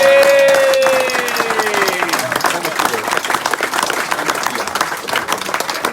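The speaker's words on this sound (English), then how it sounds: "we want a big round of applause for them forwards out there today" A crowd applauds loudly and steadily after a rugby match, dense clapping filling the whole stretch, with a whistle-like tone fading early on.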